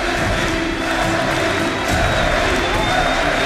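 An arena crowd at a League of Legends esports final roars and cheers in a dense, sustained wash of voices and scattered clapping, loud and continuous throughout.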